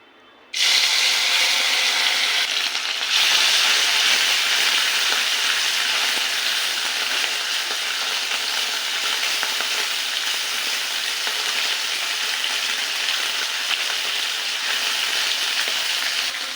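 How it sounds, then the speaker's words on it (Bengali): Small amuli fish, coated in salt and turmeric, dropped into hot oil in a wok, starting as a sudden loud burst of sizzling that stays a steady, dense crackle, close and with no talking. "এবার এই মাছটাকে দিয়ে ভেজে নেব।"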